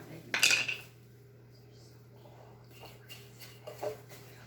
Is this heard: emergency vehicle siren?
no